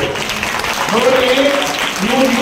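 An audience claps at a guru felicitation gathering held by temple volunteers at a Hindu monastery, a steady wash of applause running throughout while a voice speaks over it.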